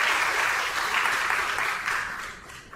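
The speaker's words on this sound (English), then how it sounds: "Applause for Pak Rector." Steady applause from a university audience for the rector at a campus talk, a broad crowd of hands clapping evenly, then tapering off toward the end.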